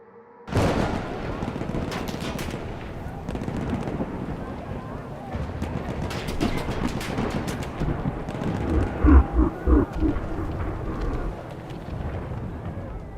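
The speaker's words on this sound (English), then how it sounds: "Artillery flashed in the distance and then again as the shots landed nearby in and around the trenches." Artillery fires and shells land near trenches in a war sound effect, with continuous loud rumbling booms and crackling blasts running throughout and a few heavier thumps near the end.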